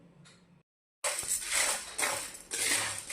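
Dry sago pearls (sabudana) roast in a pan with a dense, loud rattling and scraping that starts after a short silence and continues in close bursts.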